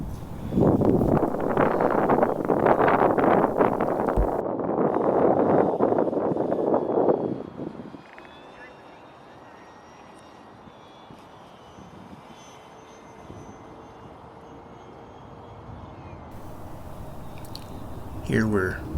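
An E-Flite RV-7 RC model airplane flies, its electric motor buzzing loudly at first, then dropping to a fainter, steadier drone as the plane flies inverted, with wind noise and occasional talk.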